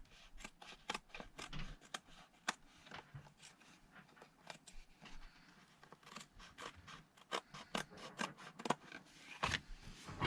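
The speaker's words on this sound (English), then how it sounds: "Then I'm going to go to the back and just trim off the excess lace." Scissors trim excess lace on a handmade card with a run of sharp, crisp snips. The cuts come in irregular bursts, some quick and some spaced apart, close and clear with no talking.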